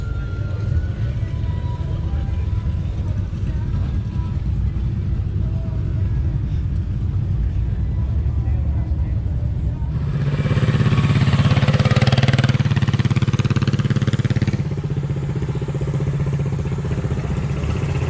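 A diesel-powered vehicle idles at an outdoor car show with a low steady rumble. Midway through, it grows louder for a few seconds under a brief rush of added noise, then settles back. Crowd chatter runs in the background.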